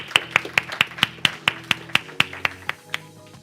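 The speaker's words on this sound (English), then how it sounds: "A big round of applause." An audience at the IFRA Global Fragrance Summit claps in a steady, even rhythm, roughly fourteen crisp, close claps that slowly fade toward the end.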